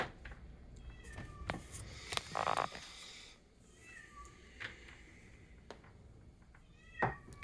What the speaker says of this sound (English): Sorry if you hear the cat meowing in the background.